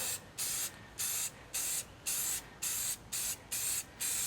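Spray paint coating a PVC pipe outdoors, heard as a series of short hissing bursts of about half a second each, close and evenly repeated with brief gaps between them.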